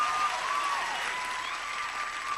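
A studio audience of sheriff's deputies at a CBS daytime game show applauds, heard as steady dense clapping that is close and loud throughout, with no speech over it.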